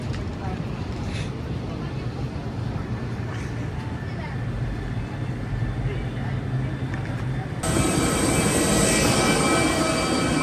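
Cambodia Airways Airbus A319 arriving at Phnom Penh, a steady low cabin engine roar that grows louder and brighter in the final seconds.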